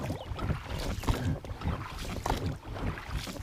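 Steady watery rumble and splashing of a small BoatMaster BM250 PVC inflatable boat moving along a river, with wind buffeting the microphone throughout.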